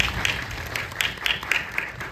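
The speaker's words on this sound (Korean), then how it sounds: "다시 한번 큰 박수 부탁드릴게요." Modest applause from an audience at a film screening talk with the director and actors, fairly quiet and thin, with a few sharper claps standing out in an uneven rhythm.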